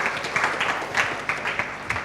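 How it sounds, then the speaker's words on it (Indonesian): A church congregation at an online worship service applauds, giving a soft, continuous wash of many hands clapping at a distance with faint accents. No one talks over it. "Yang setuju berikan tepuk tangan meriah buat Tuhan kita."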